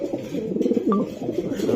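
A male racing pigeon gives a close, soft throaty coo, a rolling low burble lasting under two seconds, heard on its own.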